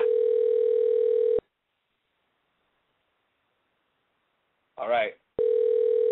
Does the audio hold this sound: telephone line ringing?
yes